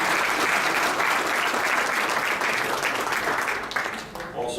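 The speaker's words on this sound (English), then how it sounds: "round of applause." Banquet audience at a softball hall of fame ceremony in a hotel applauding steadily and fairly loudly, the clapping dense and continuous before thinning out near the end.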